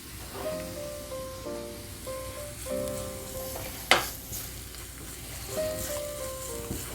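Garlic dropped into hot oil in a pan, a steady close sizzle and crackle with one sharp clatter midway, faint tonal hum drifting in and out underneath.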